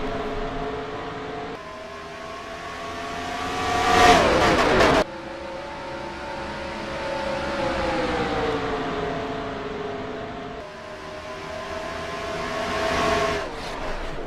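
NASCAR race cars at a race start in NASCAR Racing 2003 at Chicago, a loud droning chorus of engines rising and falling as they pull away together, with a sharp surge of revving midway through and a rush passing close by.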